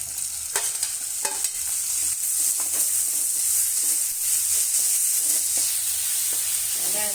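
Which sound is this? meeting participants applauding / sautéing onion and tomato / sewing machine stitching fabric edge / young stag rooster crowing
sautéing onion and tomato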